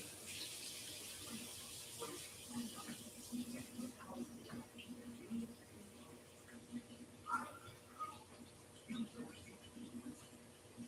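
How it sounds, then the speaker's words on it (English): A paint brush is rinsed in water during a late-night mixed media art session, giving soft, faint swishing and trickling under ongoing talk and low background noise. "I'm going to rinse my brush."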